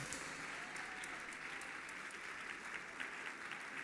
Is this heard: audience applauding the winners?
yes